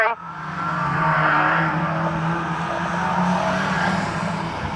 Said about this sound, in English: Steve Bishop's car really not sounding healthy at all